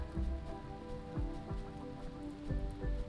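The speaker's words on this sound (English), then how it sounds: "Oh, and it's raining!" Rain falls steadily in the Rimworld video game, a continuous close hiss of drops with low thuds and tonal game music beneath, no voices.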